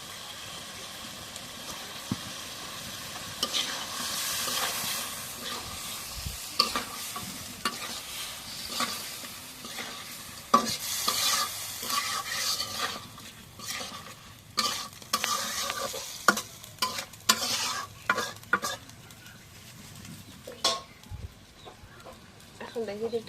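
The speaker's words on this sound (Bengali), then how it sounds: "এখন মশলাটা কষানো হয়ে গেছে, এখন মাছগুলো দিয়ে দিই।" Fish pieces sizzle and fry in a pan of cooked-down spice paste while being stirred, with continuous crackling, clattering scrapes and bursts of hissing throughout.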